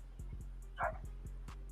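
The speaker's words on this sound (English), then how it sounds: "ain't nobody out there but a dog" A small dog named Oreo Coco Chanel yips and barks repeatedly outside, a quick series of short faint calls with one louder bark, heard at a distance over a low hum.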